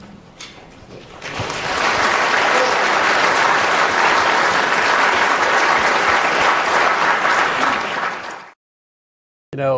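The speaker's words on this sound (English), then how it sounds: "you hear the applause" Applause from an audience at a 2013 business event fills the room, swelling quickly after a short lead-in, holding dense and steady for several seconds, then cutting off abruptly.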